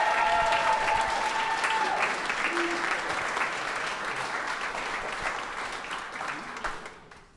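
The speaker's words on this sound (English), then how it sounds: "Let's give them one more round of applause" Dense applause from an audience at an awards event, steady clapping that slowly fades over several seconds, with a voice briefly audible at the start.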